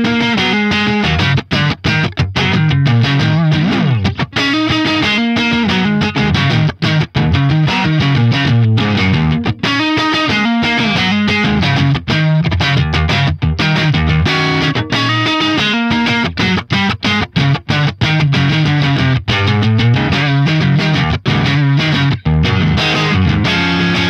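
A heavily distorted electric guitar, a Strat, runs through a Neural DSP Fortin Cali Suite amp preset, playing a dense, continuous riff of chugging chords and notes that are loud and close throughout with no talking.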